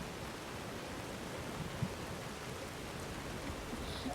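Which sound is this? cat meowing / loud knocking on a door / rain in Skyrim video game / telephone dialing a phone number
rain in Skyrim video game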